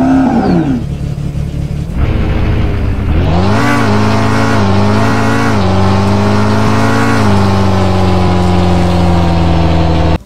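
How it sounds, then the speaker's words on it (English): A custom car engine sound in the Roblox game Jailbreak revs hard and climbs in pitch, then holds a steady, throaty roar at high speed, close and continuous with no talking. "you just heard the custom engine noises"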